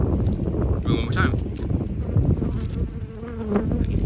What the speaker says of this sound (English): Bees right there.